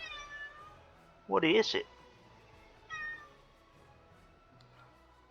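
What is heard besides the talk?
cat meowing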